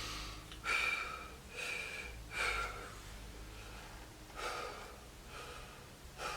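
Deep, rhythmic breaths during a core exercise routine, roughly six slow inhale-exhale cycles with airy gasping bursts spaced evenly, close and clear with no talking.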